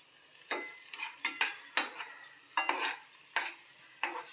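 Chili powder frying and being stirred in a pan, with a steady sizzle broken by about nine sharp scraping strokes of the spoon at an uneven rhythm, close and fairly quiet.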